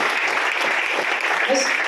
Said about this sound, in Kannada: ಒಂದ್ಸಲ ಜೋರಾದ ಚಪ್ಪಾಳೆ